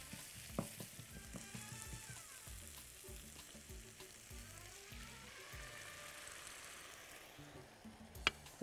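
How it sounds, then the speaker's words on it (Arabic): Garlic sizzles and fries in a wide pan pushed beside minced meat, a steady crackling hiss close by with occasional stirring scrapes and clicks, no talking. "وابدا احمر التوم في الحته دي"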